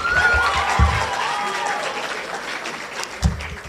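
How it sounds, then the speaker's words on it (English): Audience applause at a high school International Day assembly: sustained clapping from a crowd with a couple of sharper bursts and some voices mixed in. "Let's give another round of applause to them."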